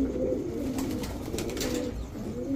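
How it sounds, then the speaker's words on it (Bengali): A female Iceberg Damascene pigeon coos in low, continuous rolling tones close by, with faint flock sounds behind and no speech. "আইসবার দামাসিন, একদম কাজল গিয়ারের একটা মাদি কবুতর"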